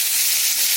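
Chopped tomatoes sizzle steadily in a hot pan for masala vegetable Maggi noodles, a continuous close hiss without pause.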